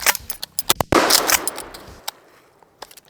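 Mossberg Maverick 88 pump shotgun firing 7.5 shot mini shells: a burst of sharp, loud gunshot-like cracks in quick succession, then a few fainter clicks and handling sounds as it tails off.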